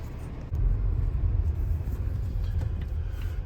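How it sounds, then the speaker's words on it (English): Low, steady road rumble and engine drone inside a Volvo XC90 T5 driving through Miami, Florida, swelling slightly after a moment and holding constant, with no talking. "Driving the Volvo"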